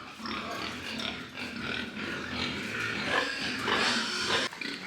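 Pigs on a pig farm grunting and squealing together in a continuous, dense chorus, close and fairly loud throughout, with a sharp squeal rising near the end and no talking.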